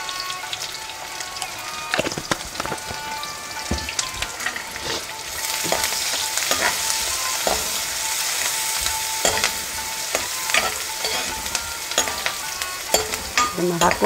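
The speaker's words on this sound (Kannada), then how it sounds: "ಈರುಳ್ಳಿ ಸ್ವಲ್ಪ ಫ್ರೈ ಆಗಲಿ" Onions fry in a pan for a Karnataka-style methi rice bath, with a steady crackling sizzle, frequent stirring scrapes and clicks of a utensil, the hiss growing denser partway through, close and loud with no talk.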